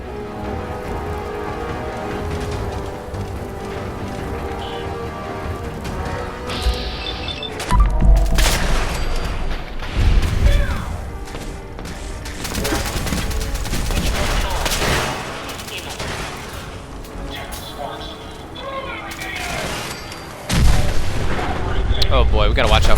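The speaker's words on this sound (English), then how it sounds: "we gotta watch out for those explosions" Explosions and gunfire in Fallout 4 combat, repeated heavy booms and bursts of shooting over a busy game soundscape, with someone talking at times.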